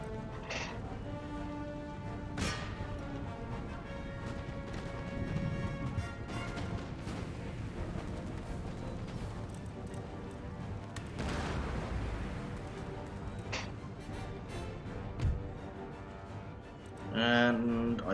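Musket volleys and artillery booms in the Napoleonic-era strategy game Empire: Total War, rolling, fairly distant crackling fire and dull thuds spread through a busy battle din, with occasional talk over it.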